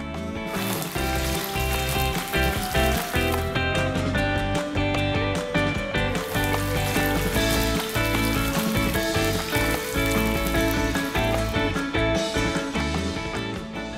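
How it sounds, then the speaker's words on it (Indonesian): Steady, crackling sizzle of shrimp deep frying in hot oil, continuous and close throughout, with faint background tones layered underneath. "Sekarang tinggal kita celupin udangnya lalu kita goreng hingga benar-benar crispy."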